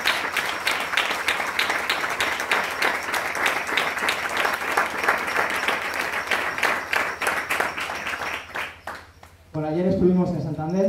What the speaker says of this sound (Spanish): os voy a pedir también un aplauso para Lines Bejo por su generosidad